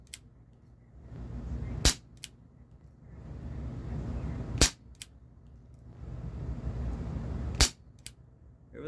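A Cybergun Desert Eagle Baby Eagle airsoft pistol fires three sharp, close snapping shots spaced a few seconds apart, with a softer rustle and a few faint clicks between them.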